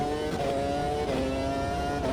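A 1999 Formula 1 racing car engine in the Automobilista 2 sim, running a bit rough at the Canadian Grand Prix, drones at steady high revs with a continuous buzzing tone and slight pitch shifts, loud and unbroken.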